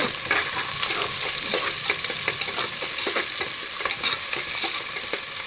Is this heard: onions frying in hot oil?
yes